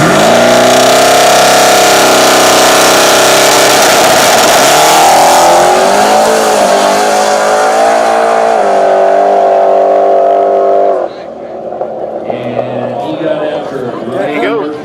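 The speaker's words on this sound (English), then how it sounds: "Ryan Murphy getting a buy run here in his 1980 Camaro" A 1980 Camaro making a drag racing run revs loud and close, its engine note climbing through gear changes before dropping off sharply near the end, with announcer talk mixed in.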